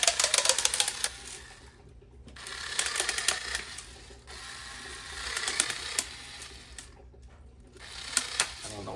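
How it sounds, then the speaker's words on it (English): A battery-operated rechargeable string cutter snips through thick-gauge strings on a Yonex Percept 98H tennis racket, giving a buzzing mechanical whir with clicking bursts that stop and start in short runs, close and fairly quiet. "Let me first cut out the strings real quick in my trusted string cutter, battery operated,"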